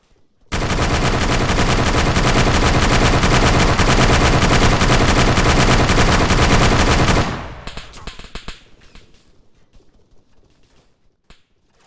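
Sustained automatic gunfire in the video game Arma 3, a loud, unbroken burst lasting about seven seconds, then trailing off into scattered fainter shots and quiet.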